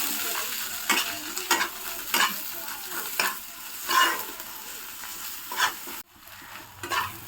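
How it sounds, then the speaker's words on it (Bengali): Ginger-garlic paste frying in a pan for a giant prawn curry, with steady sizzling broken by repeated scraping stirs of a spatula every second or so, close and fairly loud, no talk. "এবার আদা রসুন বাটাটা দেবো। আদা রসুন বাটাটা দিয়ে একটু ভাজা হলেই তারপর বাকি মশলাগুলো দেবো।"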